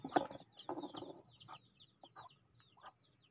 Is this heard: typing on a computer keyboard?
no